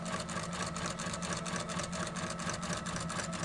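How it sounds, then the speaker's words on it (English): A sewing machine basting fabric runs steadily with a fast, even mechanical rattle, close and continuous, no pauses or voices. "before taking it to the sewing machine to baste it all together"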